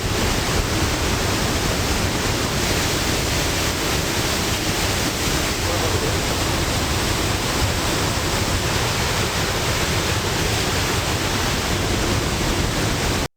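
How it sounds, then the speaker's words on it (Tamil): Floodwater from the swollen Punnampuzha river roars down a waterfall between rocks, a loud, steady, dense rushing wash that fills the whole scene without pause. "அருவியில் வெள்ள நீர் ஆர்ப்பரித்து கொட்டுகிறது"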